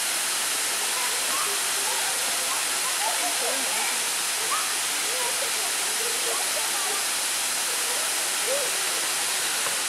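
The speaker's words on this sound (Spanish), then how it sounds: "como por ejemplo en esa cascada." Constant broad rush of a waterfall in a busy park ravine in Cuernavaca, a steady roar filling the whole clip with faint crowd voices and chatter mixed underneath.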